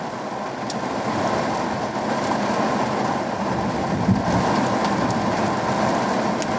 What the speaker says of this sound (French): C'est un déluge.